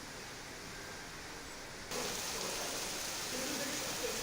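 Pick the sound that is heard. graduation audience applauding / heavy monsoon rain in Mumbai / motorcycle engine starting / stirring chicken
heavy monsoon rain in Mumbai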